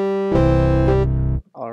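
A simple synth patch from Omnisphere 2 holds a steady, bright harmonic tone that swells at onset, sustains, then cuts off before a short second note enters, with no voices.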